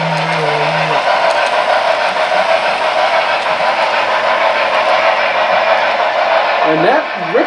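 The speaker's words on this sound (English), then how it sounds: "that one's a metal locomotive" An HO scale model train with a metal locomotive rolls continuously around a layout, a loud, steady rumbling drone lasting the whole stretch, with brief voices at the start and end.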